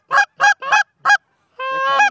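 A flock of geese honking during a hunt, four short loud honks in quick succession followed by a longer drawn-out honking call, close and clear with no talk.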